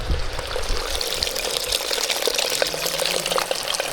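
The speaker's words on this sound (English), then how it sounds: "you just have water spicketing out of the side of a mountain" Spring water spouts out of a mountainside in a hot desert, a close, loud, continuous splashing gush.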